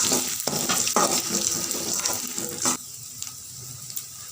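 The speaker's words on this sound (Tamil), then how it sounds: "பூண்டையும் இதுலேயே போட்டு இப்படியே வதக்கிக்கலாம்." Lentils and garlic roasting in a pan are stirred vigorously, with loud, rough scraping and sizzling bursts, then settle to a quieter frying hiss.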